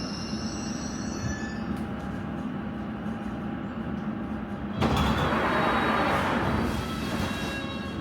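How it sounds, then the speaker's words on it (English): A London Underground Circle Line train rumbles at a station with wheels squealing, then a sudden louder whoosh of doors or passing carriages, close and steady with no talking. "is a Circle Line train to South Kensington"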